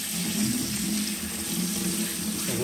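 Warm tap water pours steadily into a colander of rice at a sink, a continuous close splashing rush with no talk over it.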